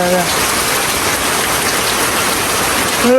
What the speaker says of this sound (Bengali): আরে জোরে শুরু হলো বৃষ্টি, দেখো।